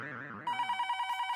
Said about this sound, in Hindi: दया सुंदर का फोन तो मुझे दे